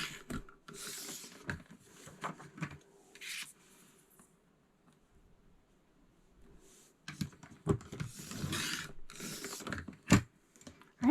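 Paper being cut on a trimmer for a scrapbook page: bursts of scraping, sliding blade strokes and handling rustle close by, separated by a quiet pause before more cutting noise resumes.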